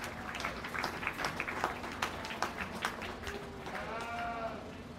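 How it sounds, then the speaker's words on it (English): A county fair swine show crowd gives exhibitors a moderate round of applause, a scattered, fairly distant clatter of clapping, with animal bleats sounding near the end. "If you would please give all three of those exhibitors a big round of applause."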